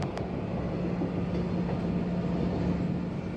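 A train rumbles past in a Haryana village, a steady loud low roll with faint clacks, heard continuously from close by.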